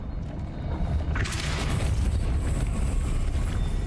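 Depulso spell cast in Hogwarts Legacy, a deep rumbling boom that swells into a bright whooshing burst midway and sustains to the end.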